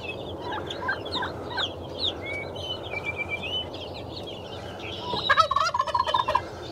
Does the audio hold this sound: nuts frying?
no